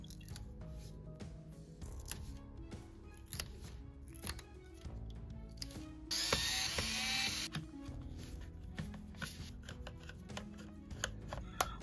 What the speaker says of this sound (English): we will remove 6 stickers to access and take off 6 screws.